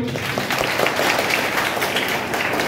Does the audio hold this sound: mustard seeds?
no